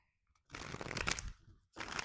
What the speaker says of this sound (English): I'm shuffling for each sign